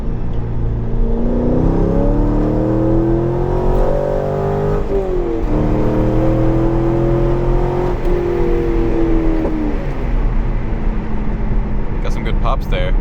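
A C5 Corvette's engine rises and falls through steady revs on a drive, loud and continuous, with a few crackling exhaust pops near the end; a person talks over part of it.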